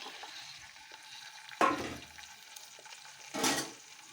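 Half a coconut, grated, sizzles steadily in hot oil for a Kannur-style country chicken curry. Two louder crackling bursts, likely from stirring, rise above a continuous close fry with no talking.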